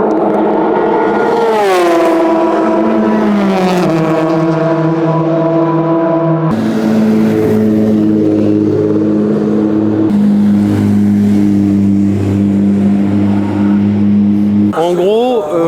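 A Porsche GT3 Cup race car laps Fuji Speedway, its loud engine revving up and shifting through gears, then holding steady pitches in a long sustained run, heard over people talking.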